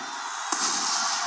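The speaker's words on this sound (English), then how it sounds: "The fireworks are going off, and Vince McMahon yells out," Fireworks explode at a WWF In Your House: Revenge of the Taker wrestling pay-per-view, one sudden loud blast halfway through followed by a sustained crackling roar over a constant noisy arena din.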